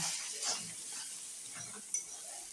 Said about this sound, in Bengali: এবার এটা দিয়ে ভালো করে একটু নাড়াবো